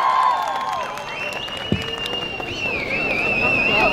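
An outdoor crowd at a Christmas festival on M G Marg in Gangtok claps and cheers to welcome a performer on stage, with whistles and voices mixed into the steady applause.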